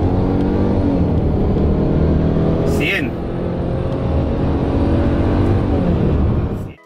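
Subaru WRX GT with CVT accelerating hard from 0 to 100 km/h, its engine note climbing steadily and continuously through a long progressive pull, loud and close, with a brief dip midway and a word spoken over it.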